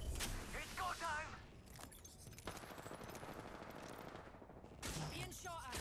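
Bursts of automatic gunfire in the battle royale game Apex Legends, a rapid rattling volley under speech at the start and again near the end, with steadier mid-level shooting between.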